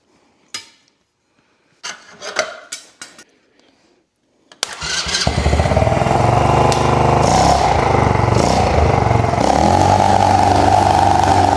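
Cheap ATV quad engine starting after a few knocks and clicks, then running loud and steady close by with rough, rising revs.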